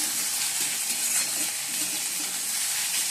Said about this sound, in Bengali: আর কড়াইতে কালো জিরে ফোড়ন দিয়েছি, দিয়ে পেঁয়াজটা ভেজে নিচ্ছি